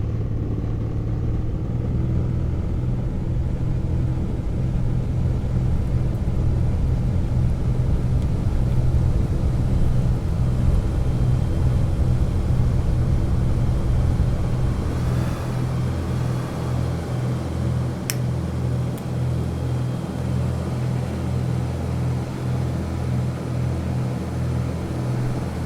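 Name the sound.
light aircraft engine powering up for takeoff on runway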